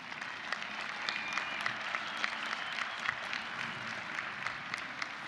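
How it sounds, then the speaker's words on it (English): Graduates applauding at a spring university commencement ceremony, steady, moderately distant crowd clapping that holds evenly for several seconds without talk. "Give yourself a round of applause."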